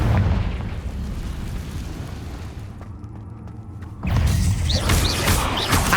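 In the Hogwarts Legacy video game, a Confringo spell blast sets off a dense, booming explosive burst that swells over a sustained rumbling roar of magical combat effects.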